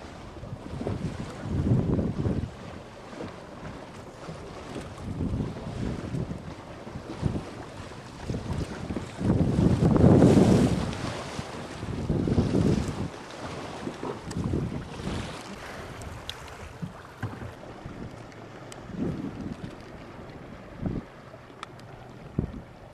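Everglades tour boat, likely an airboat, pulling away across open water, with a loud roaring engine surging in waves over steady wind noise.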